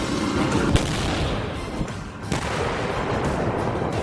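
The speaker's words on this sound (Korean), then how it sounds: "전열을 가다듬는 전차포의 기세. 드디어 포 발사" A tank's main gun fires during crew live-fire training with a mechanized infantry division, giving loud booming reports over a constant broadband rumble, with sharp blasts near the start and again midway.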